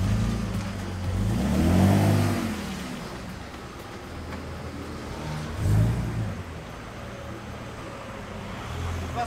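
Engine of a drift car with a welded differential revving as throttle is applied during low-speed manoeuvring, two louder swells rising over a steady running drone with road noise, no talk.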